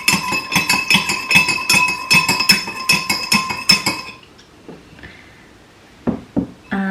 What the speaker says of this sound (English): I've just washed off my large spoon and give that a stir again